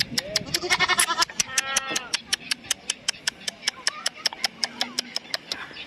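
Goats at a zoo wildlife park in Umm Al Quwain bleat repeatedly in a steady run of close, loud calls, with a dense cluster of overlapping bleats early and evenly spaced single cries after.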